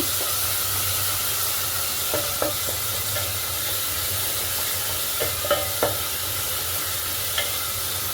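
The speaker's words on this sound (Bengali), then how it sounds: "আবার কষিয়ে নেবো ভালো করে" Chopped tomato and masala fry in a pan for a pumpkin and prawn curry, a loud, steady sizzle and hiss with occasional sharp clicks of a spatula stirring against the pan.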